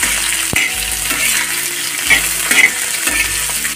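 Chopped onions frying in a pan, with a steady bright sizzle broken by a few sharp scrapes and knocks of a spoon stirring them, close and loud with no talking.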